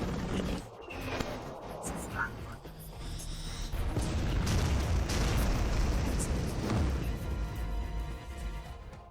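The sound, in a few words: explosion blasting enemies in drama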